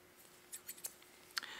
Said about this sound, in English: Really liking these razor scissors that they have.